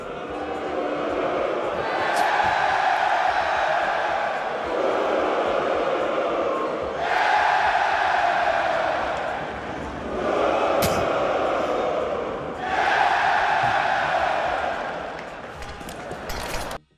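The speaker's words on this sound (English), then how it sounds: "they were booing Mouz and then cheering for MongolZ, just back and forth to start things off." An arena crowd at the IEM Dallas Counter-Strike esports event roars in long, dense waves that swell and ease in turn, booing and cheering in alternation, loud and distant-sounding, with speech faintly mixed into the noise.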